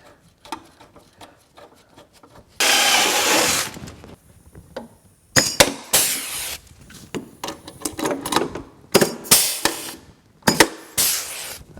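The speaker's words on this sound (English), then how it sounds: "Then I'll drill the holes for this mount." Power drill boring holes for an EZ Ryde rear suspension mount on a 700 Ski-Doo mod sled, with a long steady run of drilling followed by several short bursts and clanks of tools nearby, no talk.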